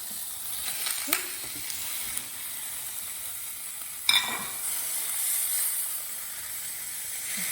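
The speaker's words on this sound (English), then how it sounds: "I'd imagine it will sizzle quite a bit when the tuna goes in" Tuna hits a hot pan with a sharp burst of sizzling that settles into a steady hiss, with a few clinks of stirring.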